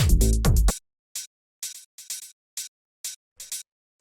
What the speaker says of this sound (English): kind of tight hi-hat like this.